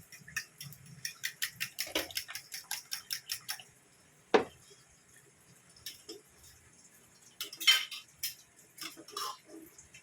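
A utensil stirs chicken curry in a pot, making a quick run of light, rhythmic metallic clinks and scrapes, then a sharper knock and a few scattered taps, all close and fairly quiet.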